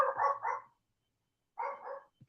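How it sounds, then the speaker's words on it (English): A dog barks twice in short double bursts, moderately distant, separated by about a second of silence. "Sorry if you can hear the dog bark."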